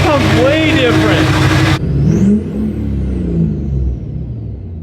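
Duramax diesel fitted with a 9-blade turbo revving in cold early-morning air, a loud close rev with turbo whine that cuts off abruptly, followed by quieter engine rumble while people talk.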